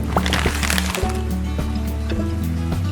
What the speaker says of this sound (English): Daddy Pig accidentally dropped his fishing rod into the lake.